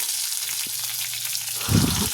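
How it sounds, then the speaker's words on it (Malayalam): Curry leaves dropped into hot oil where mustard seeds have already popped, a steady close sizzle that swells into a louder burst of crackling spatter near the end. "ഇപ്പോൾ കടുക് പൊട്ടിയിട്ടുണ്ട്. അപ്പോൾ അതിലേക്ക് കറിവേപ്പില ഇട്ടു."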